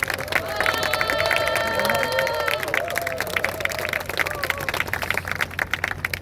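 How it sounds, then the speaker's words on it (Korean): Crowd applause and clapping at the opening ceremony of the Easy Hangang three-event festival in Ttukseom Hangang Park, Seoul, a sustained burst of clapping with cheering, mixed with a speaker's voice and festive background sounds outdoors. "오세훈 시장님께 큰 박수로 내년에 더 크게 해주시다게 말씀해 주세요."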